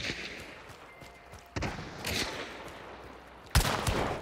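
A chaos bomb in Hunt: Showdown 1896 mimics gunfire as a scattered crackle of popping shots, with two sharp, louder bangs about two seconds apart and no voices.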